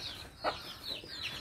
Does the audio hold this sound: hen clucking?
yes